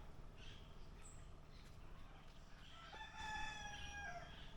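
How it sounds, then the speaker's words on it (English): Parrots and other birds call in the distance at a parrot sanctuary in Cascade, Jamaica, over a steady background hiss, with a brief high chirp early on and a louder, drawn-out call near the end. "You can hear a lot of birds."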